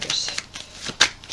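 Vera Sibilla oracle cards being shuffled by hand: a quick run of light, papery riffles and flicks, close and crisp, with a sharper snap near the end.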